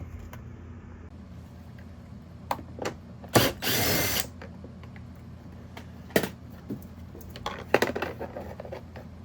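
Power tool working a 10mm door panel bolt on a 2020-2023 Nissan Sentra, a single short close whirring burst amid scattered metallic clinks and taps in a quiet space.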